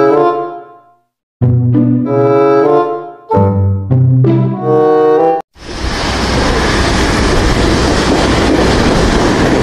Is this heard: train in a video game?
yes